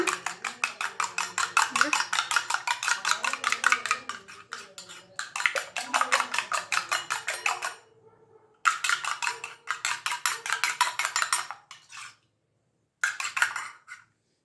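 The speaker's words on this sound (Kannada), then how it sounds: "ಚೆನ್ನಾಗೆ ಬೀಟ್ ಮಾಡ್ಕೊಂಬಿಡೋಣ ಎಗ್ನ" Eggs with pepper powder are beaten in a bowl for an egg dosa, making a fast, rhythmic clinking of a utensil against the dish in long bursts separated by brief pauses.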